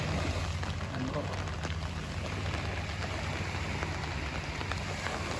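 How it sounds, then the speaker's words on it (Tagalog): Rain falls steadily at Micro Beach in Saipan during a fishing trip, a dense, even hiss of drops on surfaces throughout, fairly faint and continuous with no breaks. "umuulan na eh"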